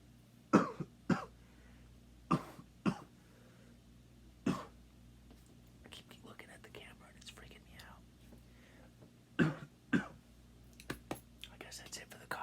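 A man coughs in a quiet room. He gives a few sharp paired coughs, then some single ones spaced several seconds apart, with soft whispery breathing and murmurs in between.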